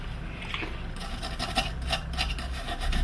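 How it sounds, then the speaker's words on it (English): Close rubbing and scrubbing on a flat-screen TV power board, cleaning leftover solder flux off with alcohol; steady, dry rasping strokes that continue without pause and grow slightly louder toward the end. "Clean up with some alcohol."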